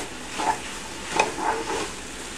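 Garlic and spices sizzle in a pot with a soft continuous hiss, broken by a few light clinks and scrapes of a utensil stirring.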